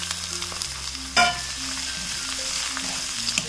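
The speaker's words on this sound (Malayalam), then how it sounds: "അടി ചേർത്ത് നന്നായിട്ട് വഴറ്റിയെടുക്കണേ ഈ സവാള" Sliced onions and green chilies sauté in a pan for an egg roast, a steady close sizzle broken by a sharp clatter of stirring just past the first second, then continued frying hiss.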